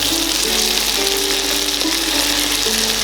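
Ginger paste being stirred into a mixed vegetable curry in a pan, with a loud steady sizzle of frying close up and faint scraping of the spoon running throughout, no voices.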